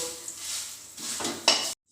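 Ground spices and asafoetida sizzle in a hot pan, with a brief utensil clink as they are stirred, close and fairly loud before cutting off abruptly.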